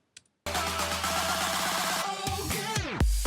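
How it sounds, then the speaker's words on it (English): A reversed-audio whoosh effect in a music track: after a brief click, a dense sustained swell builds steadily for several seconds, then sweeps downward and cuts off sharply into a deep low thump at the end. "it sounds like a time reverse effect"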